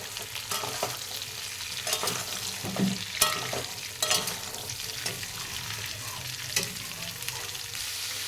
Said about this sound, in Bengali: এবার আমি ওপর থেকে ক্যাপসিকাম আর পেঁয়াজ দিয়ে দেব দুটো একসাথে, দিয়ে আবারও ভালো করে নাড়িয়ে নেব